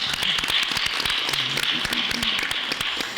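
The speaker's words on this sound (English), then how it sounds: "it certainly deserves a round of applause" Steady applause from a crowd, dense clapping throughout at moderate loudness, with some faint voices mixed in.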